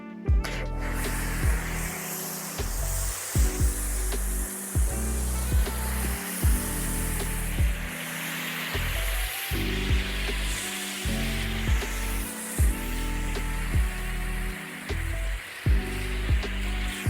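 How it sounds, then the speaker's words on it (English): Snow foam is sprayed onto a car for its pre-wash, coming as repeated hissing bursts from a foam cannon, each spray separated by short pauses and trigger clicks in a steady rhythm. "And time for the snow foam, as everyone likes"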